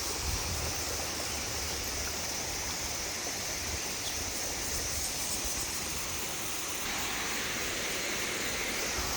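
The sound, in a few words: waterfall at Mae Sa Waterfall, Chiang Mai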